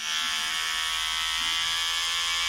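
A Rowenta Advancer TN5200 cordless hair clipper running close by, a steady bright electric buzz with a high whine that holds evenly throughout, no voices.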